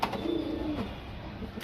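A female pigeon of an old breeding line gives a soft, low coo near the start, faint and close, followed by quiet room ambience.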